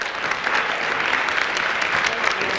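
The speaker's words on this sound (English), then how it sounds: "Harold Johnson, Jackie Taylor, come on, give them applause, Douglas Allen Mann, and Chuck Smith." Sustained audience applause fills a theatre at a Chicago Black theatre history program, dense steady clapping from a crowd throughout.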